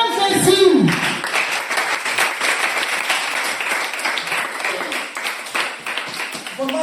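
Congregation applauding and clapping during a church testimony of healing, a sustained, fairly loud wash of claps across the whole stretch after a brief shout at the start.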